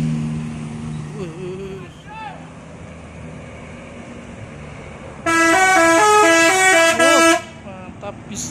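A bus horn blares in a loud, sustained musical honk over the rumble of idling engines and background chatter at a busy bus terminal in Kudus, Indonesia.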